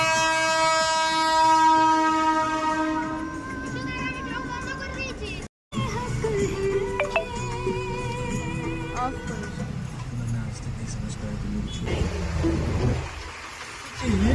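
A train passes a railway level crossing at Bollampur, with horn-like tones and rolling wagon noise over a steady rumble, plus a brief cut mid-way, while people talk nearby.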